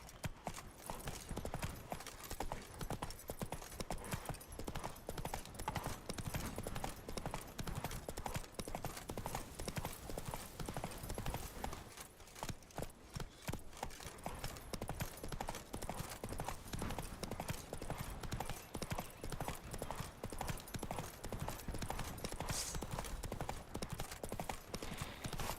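Roach, the horse in The Witcher 3, gallops steadily throughout, with loud, continuous, rapid hoofbeats close by and no talking.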